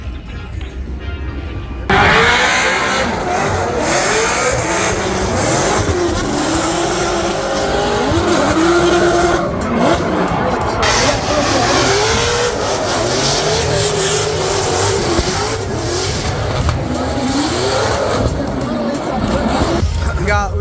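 Drift cars at a Formula Drift event in heavy rain, engines revving hard and tires squealing and skidding loudly and continuously after a quieter opening, with people chatting nearby.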